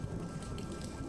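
Heavy rain from a weather mod in Skyrim hisses as a dense, continuous wash, steady and fairly loud with no distinct drops standing out.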